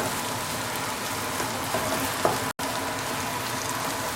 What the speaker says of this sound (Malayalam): ഇനി ഇതിലേക്ക് നമ്മൾ അരിഞ്ഞു വെച്ചിരിക്കുന്ന ക്യാരറ്റ് ഇട്ട് കൊടുക്കുക. അത് നന്നായിട്ടൊന്ന് അതൊന്ന് കുറച്ചൊന്ന് വഴണ്ട് വരട്ടെ